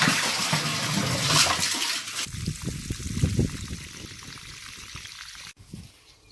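Water runs steadily through a newly installed two-stage Big Blue whole-house well water filter, a continuous rushing and splashing flow that stays loud throughout before cutting off abruptly near the end.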